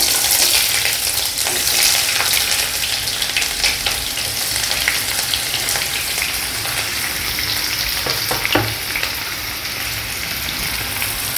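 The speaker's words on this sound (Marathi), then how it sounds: "आता आपण तेलामध्ये हे सगळं परतायला घेऊया।" Onion frying in hot oil in a kadhai for mutton rassa, a loud, dense sizzle with occasional stirring scrapes and sharp pops, continuous and close with no talking.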